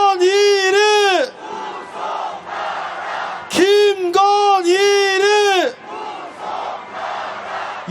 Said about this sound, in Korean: 구속 더 크게 외쳐보겠습니다.